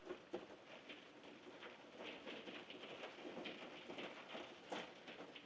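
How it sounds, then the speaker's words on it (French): Heavy, steady rain falls outside after a day of downpour, a dense continuous hiss with scattered drop taps, moderately loud and close, with no talk over it. "Il pleut abondamment."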